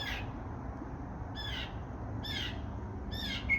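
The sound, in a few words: birds calling outdoors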